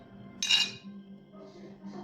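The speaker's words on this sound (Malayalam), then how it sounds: "അതൊരു മിക്സിയുടെ ജാറിലേക്ക് നമുക്ക് ഇട്ട് കൊടുക്കാം" Peeled chikoo (sapota) goes into a mixer grinder jar while making a shake, giving one short bright clink near the start, then a faint low hum with no voices.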